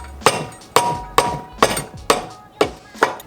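A hammer pounds six times at a steady beat on the crusty, seized turbo compressor housing of a Mazdaspeed Protege5, each blow a loud, close metallic whack with a short ringing tail.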